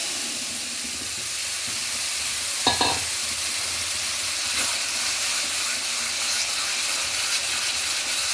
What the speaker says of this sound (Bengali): এবার শুধু কিছুক্ষণ ধরে নেড়ে চেড়ে যেতে হবে